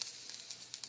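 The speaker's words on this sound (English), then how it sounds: "You can hear a little sizzling and popping sound." A grilled cheese sandwich with meat inside fries in a pan, giving a steady close sizzle broken by a few sharp little pops, with no talking.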